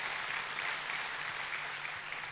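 Church congregation breaking into lively applause, a dense, bright wash of many hands clapping together at steady loudness for a couple of seconds.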